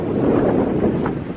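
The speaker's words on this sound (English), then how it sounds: "21 mile per hour wind gusts we are having." Gusty outdoor wind buffets the microphone with a loud, steady, broadband roar that swells slightly and never lets up, with no talking.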